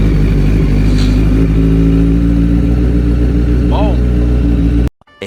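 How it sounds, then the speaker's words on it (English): A motorcycle engine rumbles steadily at close range for several seconds, then cuts off abruptly near the end. "I'm gonna hit my ignition switch and you'll hear this thing roar alive."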